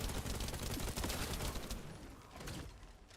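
Rapid, dense automatic gunfire from a video game fills the clip, loud and close with sustained crackling bursts that thin out slightly toward the end, with no talking over it.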